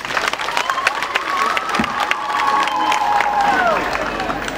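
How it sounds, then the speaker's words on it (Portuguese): Crowd at the 47th anniversary ceremony of the city of Gurué breaks into sustained applause and cheering, with scattered shouts and whistles, dense clapping rolling steadily throughout. "e peço uma salva de palmas então."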